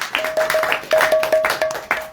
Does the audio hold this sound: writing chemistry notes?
no